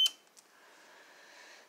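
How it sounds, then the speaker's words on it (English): Digital multimeter set to the wrong dial setting gives a short sharp beep and a fainter second blip, followed by quiet, faint electronic hiss. "It's beeping. Not a problem. I just haven't turned the dial to the right setting."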